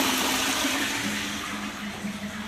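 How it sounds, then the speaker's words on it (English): A toilet flushes into a badly blocked, rotten drain, a steady rushing of water that slowly eases off without pause over its length. "Give Dunny a flush."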